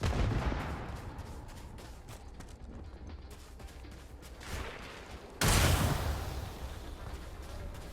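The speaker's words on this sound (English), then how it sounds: "are all those explosions, are those mines that I'm setting off" Explosions from mines and combat in the Starfield video game, a continuous barrage of dull booming blasts and crackling gunfire-like bursts, with a louder, sharper blast near the end.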